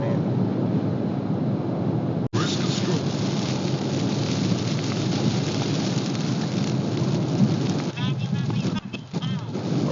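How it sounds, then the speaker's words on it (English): Heavy rain drums steadily on a car windshield treated with Aqua Shield, a dense constant hiss that runs throughout, broken only by a sharp click and a wiper sweep near the end. "Right now the rain is pouring,"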